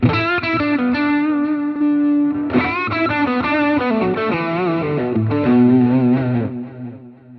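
Electric guitar solo tone played through a MOOER GE300 Lite multi-effects processor, distorted lead lines with chorus and reverb, sustained bent notes and quick runs, loud and close with no talking.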